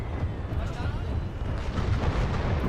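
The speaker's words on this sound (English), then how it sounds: "That Russian artillery is still coming down pretty hard." Russian artillery shells landing in Call to Arms: Gates of Hell, a 1942 Eastern Front battle: a dense, continuous low rumble of impacts and booms rolls on without pause, heavy and loud throughout.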